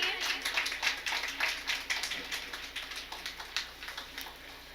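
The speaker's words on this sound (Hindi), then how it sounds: "तालियां बजती रहनी चाहिए।" Audience clapping at an award ceremony honoring daughters, scattered claps in quick bursts mixed with a presenter's voice talking over them, fading slightly toward the end.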